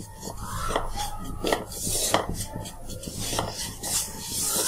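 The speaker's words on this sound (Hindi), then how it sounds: "अब आटे को हमें पहले भून लेना है।" Homemade wheat flour being roasted and stirred in a kadhai, a soft scraping and rasping of a spatula against the pan that repeats in an irregular rhythm, close and fairly quiet.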